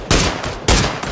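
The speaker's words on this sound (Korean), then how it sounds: "총소리 내지 마, 총소리 내지 마. 위험해." Loud gunfire in a shooter video game comes in two heavy bursts of rapid shots, close and punchy, with brief gaps between them and no talk.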